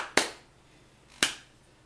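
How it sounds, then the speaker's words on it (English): Two slow, sharp hand claps about a second apart, each a crisp close snap with a short decay and quiet between. "Is the clapping part of it?"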